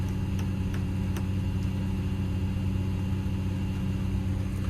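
Excavator engine running in power mode at 1700 RPM, a steady, even mid-pitched drone with a low rumbling pulse, constant and fairly faint throughout, with a few faint ticks above it.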